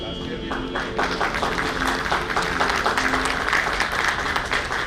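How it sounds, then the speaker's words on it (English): An audience at the inaugural session of a national convention applauds arriving dignitaries, with steady, sustained clapping throughout and voices mixed in. "May we have a huge round of applause for our dignitaries"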